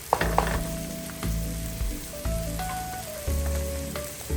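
Garlic sizzles in hot oil in a pan for chicken kalderetang, a quiet, continuous crackling fry with faint tonal hums and occasional small pops.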